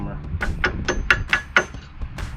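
A small hammer taps a brake pad clip into place on a 2006-2023 Dodge Charger's front brakes, about seven sharp metallic knocks that grow closer together and louder toward the end.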